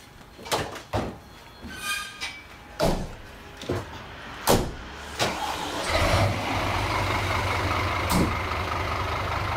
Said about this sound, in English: There's the scanner fire trucks we saw on that emergency vehicle video